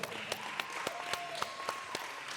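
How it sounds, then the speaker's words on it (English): An audience applauds at an MMA championship event, a brief spell of clapping with sharp individual claps over a steady crowd bed and a faint tonal hum. "Give them a round of applause."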